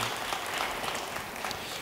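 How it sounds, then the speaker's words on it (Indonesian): Church congregation applauding together during a sermon, a steady dense wash of clapping throughout, moderately loud and fairly close, with no talk over it. "Yang percaya beri tepuk tangan yang baik bagi dia."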